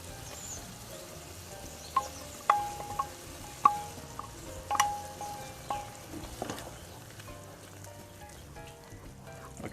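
Blended spinach purée sizzles in a pan of already-cooked tomato sauce for palak paneer, a soft steady bubbling with scattered sharper pops and spits, moderately quiet and close, with no voices.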